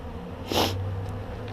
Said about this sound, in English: Sorry for the sniffles, I've been fighting a cold this last week or so